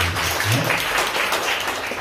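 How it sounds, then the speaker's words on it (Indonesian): A church congregation claps and cheers together in a dense, steady wash of applause, with a brief voice heard over it. "Berikan tepuk tangan yang paling meriah"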